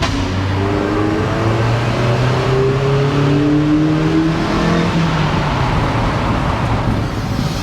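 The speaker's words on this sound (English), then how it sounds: "Let's go through this tunnel, see how much extra noise the exhaust makes." Exhaust of a Mazda MX-5 roadster echoing loudly and steadily as the car drives through a tunnel, a continuous engine drone with rising tones as it accelerates, no talking.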